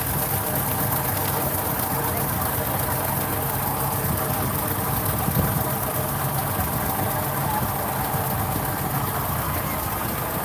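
A line of John Deere tractors and a Farmall drives in a July 4th parade in Columbus, their engines rumbling and idling in a steady, dense drone that runs unbroken throughout.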